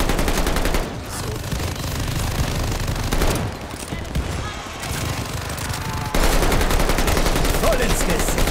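A rifle and machine-gun hybrid weapon fires dense, continuous rapid bursts in Call of Duty. The loud fire keeps going with short breaks and rises near the end.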